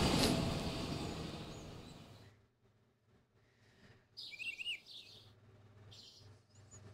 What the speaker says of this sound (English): That bird was shaking.